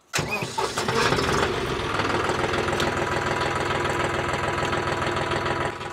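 A diesel tractor engine cranks and catches, then settles into a loud, steady knocking run close by, with no talk over it.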